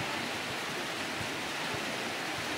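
Rainwater flows steadily at close range after a downpour, a constant broadband rushing wash like a small waterfall or gutter stream with faint low thumps underneath, no voices.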